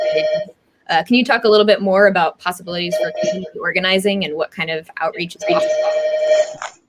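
A telephone rings repeatedly in a borrowed home during a live-streamed interview, its tonal bursts recurring under continuous conversation between two people and sounding again clearly near the end.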